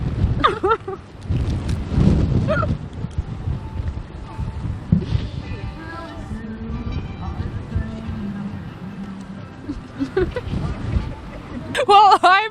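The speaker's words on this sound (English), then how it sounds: "It's so windy." Wind rumbles across the microphone in uneven gusts while people talk nearby, with a few sharp bursts near the end.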